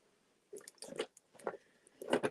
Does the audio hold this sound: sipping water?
yes